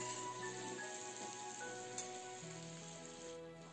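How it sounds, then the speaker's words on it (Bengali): Onions frying in a pan for a dhaba-style egg tadka, a continuous crackling sizzle with faint stirring, fairly quiet and untouched by talk. "পেঁয়াজগুলি দিয়ে বেশ ভালো করে ভেজে নেব"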